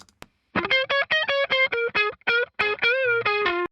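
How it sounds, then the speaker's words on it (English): A bright, distorted synth loop from a downloaded Splice sample, choppy chord stabs in a steady rhythm, with a brief click before it starts; no voices. "And so this is actually just a splice loop."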